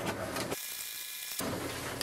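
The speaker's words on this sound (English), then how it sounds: "it will send a command for the printer to print" An HP DeskJet 2721 inkjet printer working as it prints a page: quiet mechanical ratcheting and gear whirring, briefly dropping to near silence in the middle before the clicking motor resumes, close and faint.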